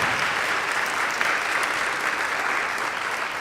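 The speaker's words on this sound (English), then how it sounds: "Please give them another round of applause." A room full of people at a university Charter Day ceremony gives the choir and dancers a loud, even round of applause that stays dense and steady throughout, with no voices rising above it.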